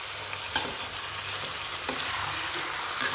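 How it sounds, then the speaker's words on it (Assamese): Chicken fries in a pan over already-fried onions, giving a soft, even sizzle with a few sharp spatters; the sound is fairly quiet and heard alone. "এতিয়া চিকেনখিনি মই ভাজি দিলোঁ ইয়াতে।"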